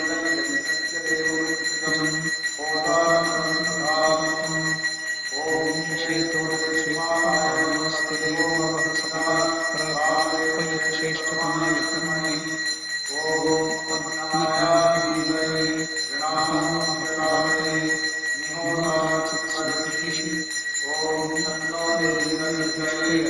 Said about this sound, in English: The bell is continuously chanted.